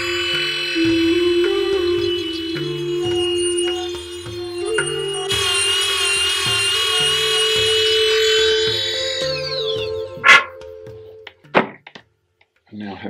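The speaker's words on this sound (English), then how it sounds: "I'm going to do it with this little grinder. It's got a ball-shaped tungsten cutter in the end of it." A small handheld grinder fitted with a ball-shaped tungsten cutter enlarges a finger hole in a handmade flute, whining steadily up close in a pulsing rhythm before cutting off, followed by a few knocks.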